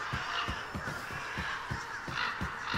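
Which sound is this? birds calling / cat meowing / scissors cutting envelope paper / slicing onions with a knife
birds calling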